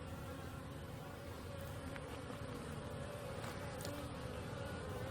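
A steady, dense drone of honeybees buzzing around two calm hives in West Tennessee, continuous and close, holding constant throughout with no voices.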